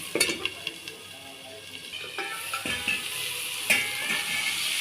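Onions fry with chilli powder in a pan as a spoon stirs them, giving a steady sizzle with scraping knocks, no voices.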